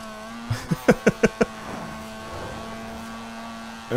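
A Mazda engine in Forza Horizon 4 hums at a steady drone, punctuated by a quick run of five sharp revs or gear shifts early on before settling into an even cruising tone, with a fresh burst right at the end.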